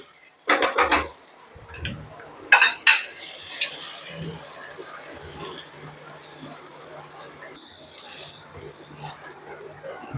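Eggs being stirred into cooked masala in a pan for egg bhurji, with a few sharp utensil clanks against the pan early on, then quieter steady scraping and stirring.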